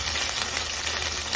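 Spices and ginger sautéing in a hot pan give a loud, steady sizzle and crackle throughout, close up and alone with no voices.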